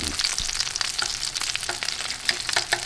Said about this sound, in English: Now we start with the shrimp. We put a piece of butter.